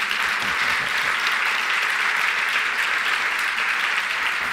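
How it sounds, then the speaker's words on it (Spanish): A forum audience breaks into loud, continuous applause, a dense wash of clapping that holds steady throughout with no voices on top. "les pido un fuerte aplauso"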